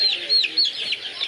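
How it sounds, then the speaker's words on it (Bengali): Young chicks at a poultry shop selling farm, tiger and broiler chicks cheep in quick, high repeated peeps, a close and continuous chorus with no talk over it. "এই যে ফার্মি মুরগির বাচ্চা, এই যে টাইগার মুরগির বাচ্চা, এই যে ব্রয়লারের বাচ্চা"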